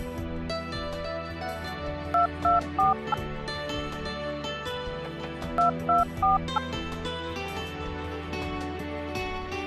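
Two short bursts of touch-tone dialing beeps, a few tones each, play over steady background music.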